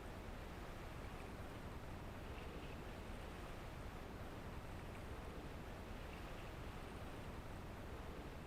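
A boat under sail in .hack//G.U. Last Recode: a steady, unbroken wash of wave and wind noise, broad and constant throughout, with no voices.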